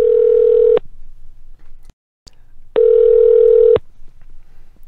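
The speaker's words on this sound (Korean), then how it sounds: "고요한 전화 연결음 속에서" A telephone ringback tone sounds while a call connects: two loud, steady one-second beeps about two seconds apart, with quiet background between them.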